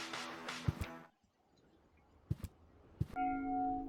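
Three sharp bell dings ring out in the video game Deponia, widely spaced between bursts of game sound, with a sustained tonal chime swelling at the end.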